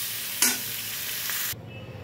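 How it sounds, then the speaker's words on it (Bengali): Potatoes and pointed gourd frying in a pan of oil, a continuous close sizzle with a clink of a utensil early on, cutting off abruptly toward the end into quiet. "আলু পটলটাকে একদম লাল লাল করে ভেজে নেব"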